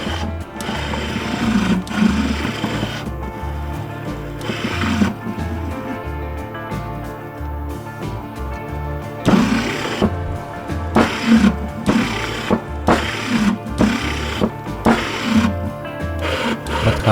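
An eRacing Lab sim racing pedal actuator runs, giving a rhythmic mechanical buzzing and thumping pulse that repeats steadily and loudly throughout, close and without speech.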